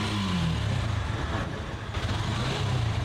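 A used motorcycle engine with a slightly harsh, tight note runs at a used bike showroom in Tangail, a low, steady rumble close by with a brief rev at the start and a slight dip midway.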